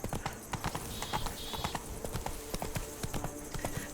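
Horse hooves from The Witcher 3 clip-clop in a steady walking rhythm, close and fairly quiet, with a voice talking briefly over them.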